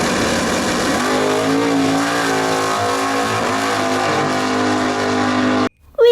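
A race car engine sound effect for a toy race car revs steadily and loudly with rising and falling pitch for several seconds, then cuts off abruptly near the end.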